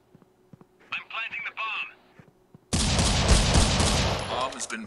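Talk over a quiet stretch in the game Critical Ops gives way to a sudden, loud, sustained burst of rapid gunfire that fills the rest of the clip.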